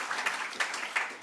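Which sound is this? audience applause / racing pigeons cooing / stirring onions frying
audience applause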